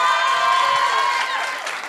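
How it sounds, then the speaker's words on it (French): Dense cheering and shouting from an audience applauding a DJ backstage at an Afro-urban TV show taping, loud and close with excited voices mixed in throughout. "On l'applaudit bien fort"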